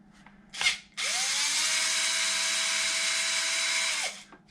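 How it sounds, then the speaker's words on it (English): A power drill driving screws while a Traxxas XRT RC car center differential is taken apart: a short burst, then a steady three-second whirring run that winds down, heard close with no talk. "Now we're going to take the diff apart."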